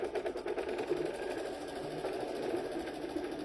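A sewing machine, likely an embroidery machine, runs continuously while placing a placement stitch on felt for a patch, giving a steady rapid mechanical whir with a fast pulsing rhythm, close and unbroken.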